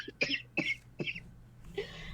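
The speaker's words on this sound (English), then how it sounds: "there's just another coughing fit" A short coughing fit of four harsh, raspy coughs in quick succession, close and fairly quiet, with no talking.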